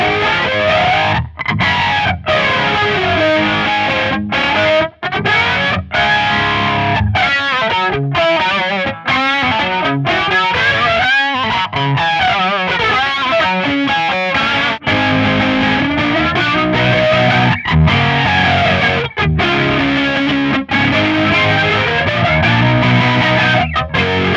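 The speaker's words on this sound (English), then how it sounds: "So that's a great sounding flanger." Electric guitar played through a Hotone XTOMP pedal set to a flanger effect, sweeping and whooshing over continuous distorted, chorus-like playing, loud and sustained with no talking.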